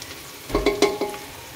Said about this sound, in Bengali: আমি এখানে পেঁয়াজ মরিচ কষাইতেছি